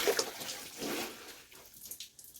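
Water runs steadily into a tub or sink through cloth laid in to muffle it, a soft broadband rush with faint splashing that fades slightly toward the end.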